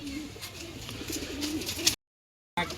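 Pigeons coo nearby in soft, rolling low calls over a faint background hiss. A brief gap of silence follows, then the sound resumes.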